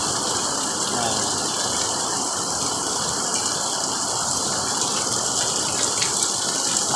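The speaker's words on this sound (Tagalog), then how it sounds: "Napakalakas ng ulan." A dense, steady roar of heavy rain pours down without letup, loud and close, with no clear voices over it.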